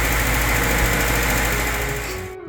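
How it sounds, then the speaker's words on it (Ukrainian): A small motor runs with a steady, buzzing whir, loud and close, then cuts off abruptly near the end. "Ось так завівся моторчик."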